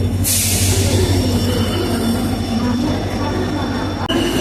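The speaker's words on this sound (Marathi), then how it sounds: "फायनल आपली ट्रेन आलेली आहे" A train pulls into a station with a loud, close rumble and a high wheel squeal, ending in a sharp clank near the finish.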